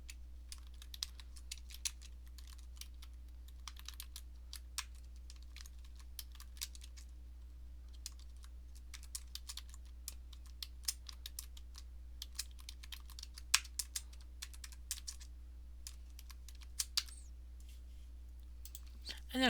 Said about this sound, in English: Typing that inside of here would look like this.